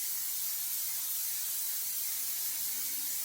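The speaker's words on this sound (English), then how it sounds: "We give the pan a good spray." A can of cooking spray hisses steadily onto a pan for several seconds, a close, continuous bright spray with no pauses.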